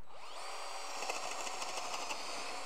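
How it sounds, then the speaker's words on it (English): A power drill whines up to speed and bores a vent hole down into a wooden 4x4, a loud, steady high-pitched whir with slight wavering as the bit bites. "First thing that we're going to do is drill our main vent hole."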